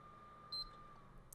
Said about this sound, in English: And that last beep turned off the system.